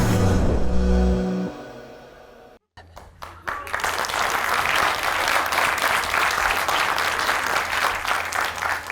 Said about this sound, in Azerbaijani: Onda alqışlarla Mehbarə xanımın skeçi başlayır.